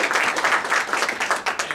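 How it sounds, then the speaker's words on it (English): An audience at a public management lecture claps for the presentation assistant, a brisk, loud round of hand clapping with uneven pulses and no talking over it. "I'd appreciate a little applause for Elisa Moldavanova."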